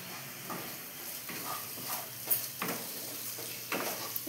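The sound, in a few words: paneer frying in a pan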